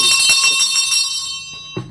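A bell rings steadily on an afternoon radio show, a loud shimmering metallic tone that holds and slowly fades, with no talk over it.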